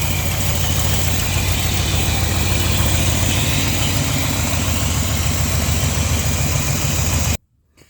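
A 1980 Chevrolet C30 dually truck engine runs steadily at idle up close, with a rough, ticking exhaust manifold leak chuffing over the low rumble, then cuts to near silence at the end.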